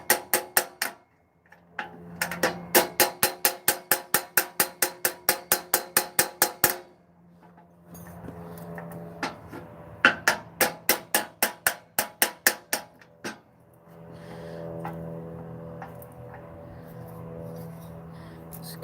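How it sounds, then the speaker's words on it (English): A hammer drives a part onto place in a home repair, rapid bursts of sharp metallic taps close by, each run of quick strikes broken by short pauses and quieter handling noise. "I'm gonna hammer this thing on there."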